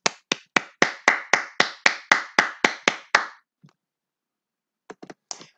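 Students in a third-grade English class clap together in a steady rhythm of about a dozen sharp, evenly spaced claps, then stop, followed after a pause by a few scattered, fainter claps.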